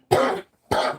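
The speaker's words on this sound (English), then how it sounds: "I'm always coughing in this room." Two sharp, separate coughs from one person indoors, each loud and brief with a short pause between them, and no other sound around them.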